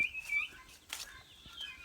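Guinea fowl keets chirping in thin, high, insistent alarm-like peeps, close by, in a brief burst with a faint rustle.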